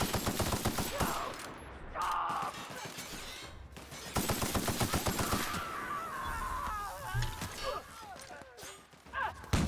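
Player gunfire in The Outer Worlds, rapid bursts of shots in quick rhythmic volleys that pause and resume, fairly close, with game sounds mixed in and no talk.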